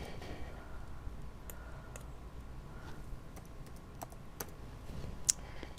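Typing on a computer keyboard, a scattered series of faint, soft key clicks at an irregular pace over a low steady room hum, no talking.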